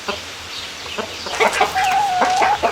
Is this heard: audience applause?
no